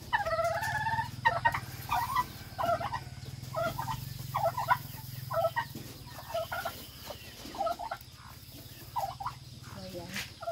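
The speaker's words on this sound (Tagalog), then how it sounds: "Ito naman ay mga pabo." Turkeys gobble repeatedly in quick, throaty bursts throughout, fairly close, over a steady low hum with no talking.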